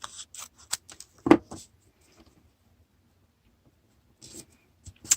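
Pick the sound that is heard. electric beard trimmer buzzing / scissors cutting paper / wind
scissors cutting paper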